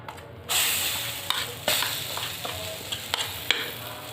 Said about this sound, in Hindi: हमारा बेसन भुन चुका है। अब मैं इसमें ना मटर डालूंगी